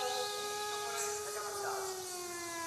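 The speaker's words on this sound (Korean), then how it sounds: "이 영화를 보면은 3번의 중요한 민방위 사이렌이 등장합니다" A civil defense air-raid siren from a film wails in a loud, steady, sustained tone, heard alone for the whole stretch.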